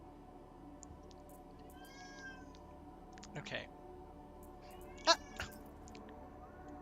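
A house cat meows a few times, one call clearer and louder near the end, while people chat and murmur in the background of a busy indoor space.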